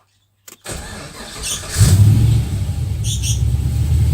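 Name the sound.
V8 engine starting up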